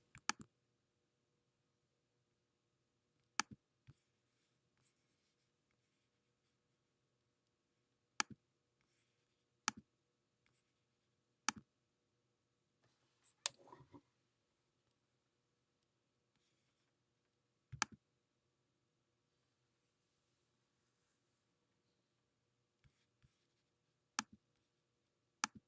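Computer mouse clicks, sharp isolated taps spaced irregularly several seconds apart, with a few quick double clicks, close and quiet against a near-silent room.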